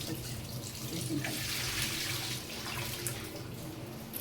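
Tap water runs steadily into a sink while fresh coriander leaves are washed in a home kitchen, a continuous close splashing flow throughout with no talk.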